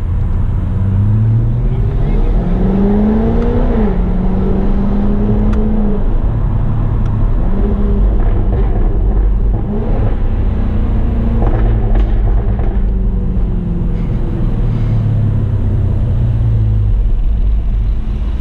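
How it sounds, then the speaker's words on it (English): A loud 2019 Jaguar F-Type R AWD engine in sport mode rumbles and revs continuously, its pitch rising and falling through several throttle bursts over a steady low roar. "Pretty loud, not the most discreet car if you have it in sport mode."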